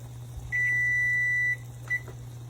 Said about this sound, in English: our timer's about to go off